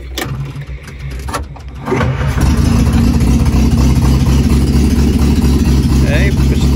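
A 1961 Morris Minor pickup engine cranks and catches after a couple of seconds, then runs at a steady, loud, throbbing idle close by, with a person speaking over it.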